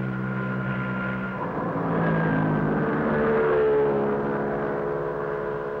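Motor scooters from a 1958 island rally ride through thick mountain mist, their engines making a steady, loud drone with harmonic whine that rises and swells midway as the machines pull past, no voices heard.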